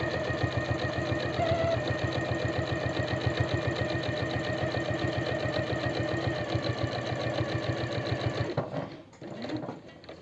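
A sewing machine runs a fast, even stitch along the edge of men's jeans, a loud close rhythmic chatter holding steady for about eight seconds before stopping, then a few faint handling sounds.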